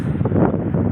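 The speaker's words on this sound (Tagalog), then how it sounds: "Lakas ng hangin." Strong wind gusting across the microphone during a windy day in Palawan, a steady, loud low rumble of buffeting with no talk.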